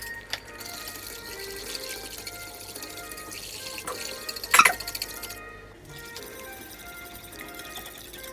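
Cassava liquid dripping and trickling through a sieve after sifting, close and fairly quiet, with one louder splash of liquid midway before the flow thins out.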